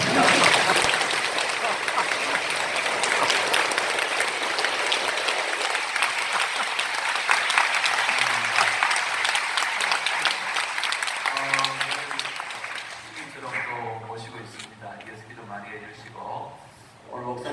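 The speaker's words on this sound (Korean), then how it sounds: "박수로 한번 다시 한번." A Korean church congregation applauds in a long, full burst of many hands, loud and dense for about twelve seconds before fading, while a voice speaks over the tail end.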